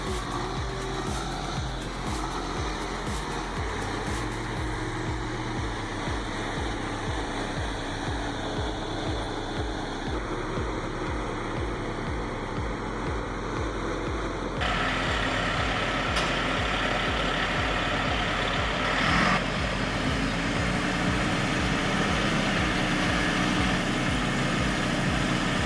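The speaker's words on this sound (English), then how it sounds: "The mud is so soft that the tires keep spinning instead of finding traction." A truck on a soft, muddy forest road labors under throttle, its engine droning loudly and steadily with a rough, gritty churn as the tires spin, continuous for the whole stretch with no talking.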